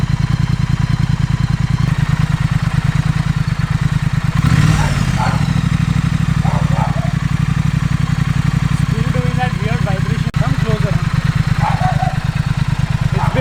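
A Triumph Thruxton motorcycle engine runs steadily after two months unused, a loud continuous idle with an even firing beat and mechanical clatter, while people talk briefly over it.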